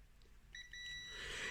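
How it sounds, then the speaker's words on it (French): A multimeter continuity tester beeps faintly while probing a pinball coil winding on a Gottlieb playfield under restoration, giving a thin high tone that starts and stops briefly, then holds over a hissy background. "Donc si vous entendez un petit bip, c'est que c'est bon."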